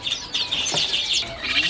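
Caged cucak biru songbirds in a bird shop give a quick run of sharp, high chirps close by, mixed with brief bursts of fluttering wings, with no voices.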